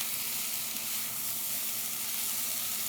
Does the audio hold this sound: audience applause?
no